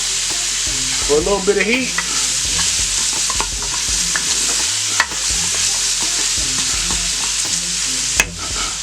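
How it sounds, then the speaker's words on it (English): Serrano peppers frying in a pot for chicken and shrimp ramen soup, a steady loud sizzle with scraping stirs throughout and brief talk near the start. "I'm going to throw in about half of my serrano peppers."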